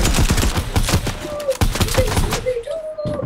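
Rapid bursts of gunfire in the Fortnite video game, loud and dense, with quick repeated shots and thuds in a busy mix, a player's voice faintly mixed in.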